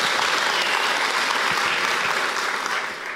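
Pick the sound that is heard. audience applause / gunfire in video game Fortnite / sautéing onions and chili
audience applause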